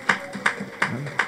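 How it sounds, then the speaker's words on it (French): A church congregation claps together during a sermon, four crisp, even claps in a steady beat, close and fairly loud, with no voices over them. "Applaudissez au moins pour ça."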